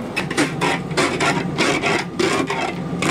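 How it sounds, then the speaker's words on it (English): A Pampered Chef kitchen spatula scrapes ice off a school bus windshield in rapid, rasping strokes, loud and close, repeating steadily with no voices. "You see that awesome ice scraper he's using? That's my pampered chef spatula."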